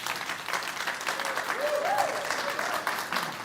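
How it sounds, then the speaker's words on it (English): Applause from a summit audience fills the room as a steady, even patter of many hands clapping, with a brief vocal sound rising faintly underneath midway. "I first want a small applause for these three lovely ladies."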